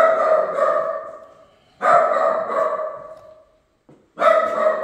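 Several dogs bark inside a crowded house, loud close bursts of barking in three clusters separated by brief pauses.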